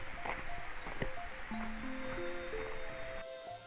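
A mountain valley stream on Dobongsan, near Munsadong Falls, rushes steadily downhill as a broad, continuous wash of water close by, with a few faint tonal sounds over it.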